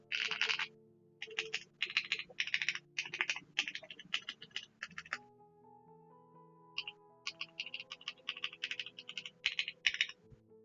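Rapid bursts of typing on a Keychron Q5 HE mechanical keyboard, a 40% layout with a numpad, with crisp close-up keystrokes in quick runs, a short pause midway, then more typing over faint background hum.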